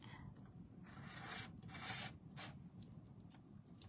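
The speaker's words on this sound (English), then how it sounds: "Let me scrape down my side a little bit." A spatula scraping around the inside walls of a sourdough starter jar, soft close rasping strokes in quick bursts, quiet with no talk.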